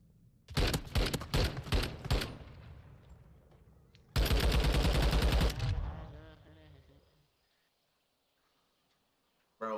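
Rapid automatic gunfire from a Call of Duty match, loud bursts of rattling shots in the opening seconds, then a sustained dense volley, fading to near silence before a brief final burst.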